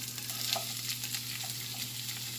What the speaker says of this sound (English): I'm put a little oil in my pan, and I'm going to saute this for a little bit